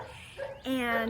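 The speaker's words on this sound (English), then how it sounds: "You can hear the dog barking in the background." A dog in the background gives a short whimpering yip and then a longer whining bark-like cry, heard close behind a brief spoken word.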